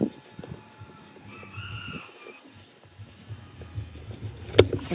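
Chickens cluck and crow close by in a rural setting, a short drawn-out call rising partway through over scattered clucks and rustling, ending in a sharp sudden crack.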